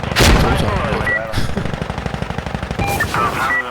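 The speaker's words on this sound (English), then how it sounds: "do a gun run on this target" Rapid automatic gunfire from an aircraft gun run strafing a target in Insurgency Sandstorm, a sustained loud burst of rattling shots lasting several seconds, with voices and radio chatter over it.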